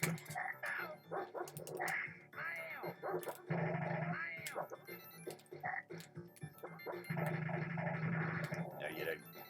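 Dog barking and yipping in the SNES game Earthworm Jim, repeated short barks mixed with game effects while a person talks over them.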